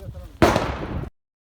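A single sharp, loud blast from a training grenade launcher erupts after a moment of low background noise, followed by a short rumbling decay that cuts off abruptly.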